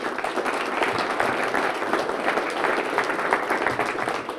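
An audience at a farrier show claps steadily, a dense, even wash of applause lasting the whole stretch.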